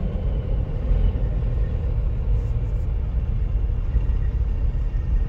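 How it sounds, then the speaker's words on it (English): A loud truck rumbles just ahead of a Cadillac ATS-V on a road near Marietta, Georgia, its heavy, steady engine drone blending with the car's own road noise and holding constant without a break. "Loud truck in front of us."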